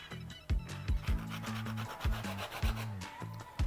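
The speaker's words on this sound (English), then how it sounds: "Now we're just gonna do a little orange zest." An orange rubbed against a zester or grater in short repeated rasping strokes, about eight scrapes with brief pauses between them, close up and steady, with no talk.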